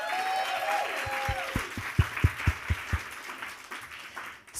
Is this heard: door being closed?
no